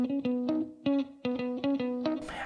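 An electric guitar runs through compression, a tweed-style amp, reverb and delay, playing a clean plucked riff of about nine evenly spaced notes with a short reverb tail at the end.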